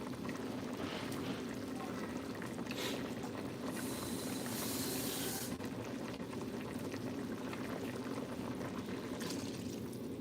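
Water added to a garlic and herb soup with olive oil, a steady simmering, bubbling liquid sound running throughout, with a brief brighter pouring hiss in the middle.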